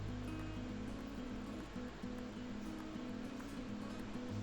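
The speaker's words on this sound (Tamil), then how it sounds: "நல்லா கொதி வரட்டும்." Water with biryani spices heating in a pot toward a boil, a steady broadband rushing roar with low bubbling rumble and faint tonal hum, continuous and fairly loud without speech.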